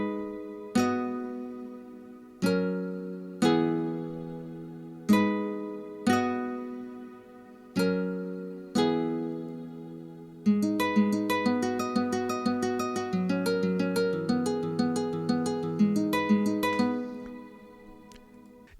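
Keyboard patch from Atmosphere with low notes panned right and high notes panned left: a slow run of separate struck chords, each ringing out, then a denser stretch of quick repeated notes over sustained tones, alone with no voice.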